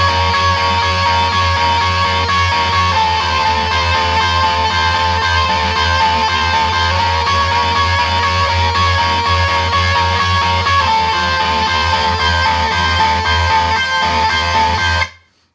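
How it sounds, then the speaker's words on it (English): Loud, sustained electric guitar strings ring out with vibrato and effects in a punk song lesson, a dense, steady wash of tone holding for about fifteen seconds before cutting off abruptly. "you want to keep it ringing out."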